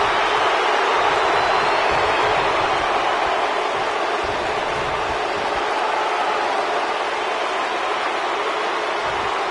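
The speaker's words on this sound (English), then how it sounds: "We've got a raucous crowd here in Philadelphia tonight" A raucous wrestling arena crowd in Philadelphia, a dense, steady roar of massed voices filling the space without letup.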